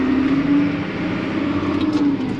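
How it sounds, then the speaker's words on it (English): An old farm tractor engine runs steadily close by, a low, rough mid-pitched drone with a slight rise in revs, heard alone. "I love this old tractor."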